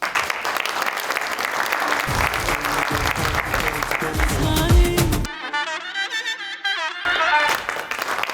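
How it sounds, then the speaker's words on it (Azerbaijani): A studio audience at a New Year comedy show claps steadily and loudly for about five seconds; the applause then breaks off into a short burst of music, and the clapping returns briefly at the end. "Tamam. Alqışlarla."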